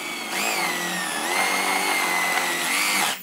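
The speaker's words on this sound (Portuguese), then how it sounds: "que a broca chata faz um furo desse lado" A flat spade drill bit bores a hole through wood for a simple rustic stool, giving one loud, continuous, close whining drone that rises slightly in pitch. It runs alone for about three seconds, then cuts off.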